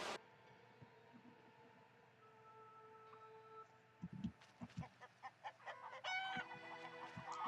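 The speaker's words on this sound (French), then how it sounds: "Il y a les poulets de sortie." Chickens in The Witcher 3 give a series of soft, fairly close clucks over a steady ambient game hum, followed by a brighter crow-like call near the end.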